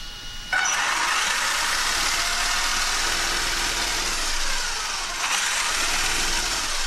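A Traxxas XO-1 RC car's electric motor spins up abruptly into a steady high whine, loud and close, holding for several seconds with a slight dip and rise in pitch near the end.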